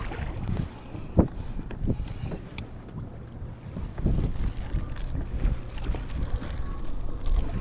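Strong wind buffets the microphone while kayak fishing on rough open sea off Lauderdale-by-the-Sea, a constant roaring rumble with gusty surges and water noise, no talking.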